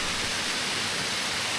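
Waterfall in the Lake District pours down beside a bridge, a steady broadband rushing hiss of falling water, constant and fairly soft throughout.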